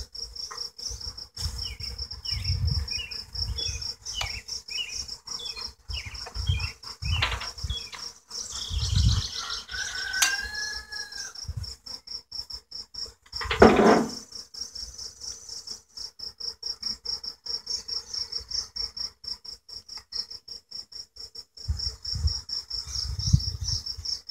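Honey bees swarm around a packed hive being smoked, giving a continuous close buzzing hum. Individual bees drone past the microphone and soft tapping and handling noises break in now and then.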